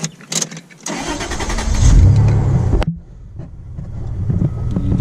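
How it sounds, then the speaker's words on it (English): Toyota Prado 90 Series engine cranking and catching, swelling into a loud close rumble for about two seconds before settling abruptly to a quieter idle. "If I start the car up"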